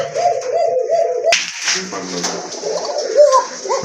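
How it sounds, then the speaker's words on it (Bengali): A pair of Coca pigeons coos in repeated rounded calls, close by, with a sharp slap or wing clap partway through and someone talking over the birds. "মাশাল্লাহ একজোড়া কোকা কবুতর দেখেন কত ডাকে"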